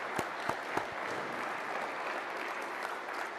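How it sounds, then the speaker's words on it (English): Audience applause for an Army sergeant first class at a formal speech event, steady crowd clapping with a few sharper claps near the front, fairly faint and continuous for a few seconds. "Let's give a round of applause again to Sergeant First Class Chris Strange."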